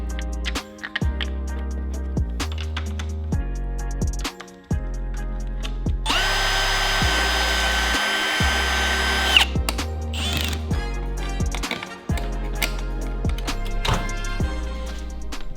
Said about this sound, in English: then drilled these out the 6mm, maybe a little bit bigger than a 6mm bit. So quarter inch drill bit.